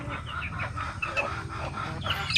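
A Basilan rooster clucks in a string of short, close calls over a steady background of farmyard noise.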